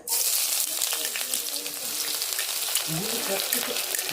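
Onion and green chilies fry in hot oil for a chicken shorva, giving a loud, steady, close sizzle that lasts the whole time with no one speaking.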